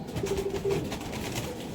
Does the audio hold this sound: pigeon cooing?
yes